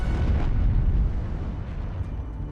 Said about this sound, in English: Within mere seconds, an enormous explosion broke Hood in 2 parts.